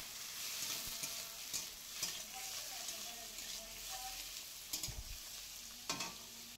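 Potatoes for a fish curry fry in hot oil, a soft steady sizzle broken by occasional stirring scrapes and knocks of the spoon against the pan, heard close and fairly quiet.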